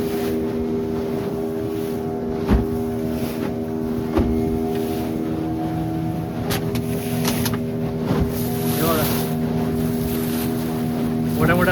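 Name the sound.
motor boat moving over sea waves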